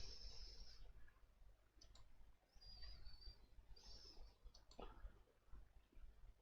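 A computer mouse is clicked while working in LibreOffice Writer: a few soft, isolated clicks separated by long quiet gaps in a hushed room.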